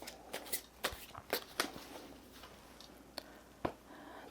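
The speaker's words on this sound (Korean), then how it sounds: "소울 주역 카드 한번 뽑아볼게요" Soul I Ching oracle cards shuffled by hand in close, crisp riffling bursts with a few sharper slaps between softer sliding strokes, no voices.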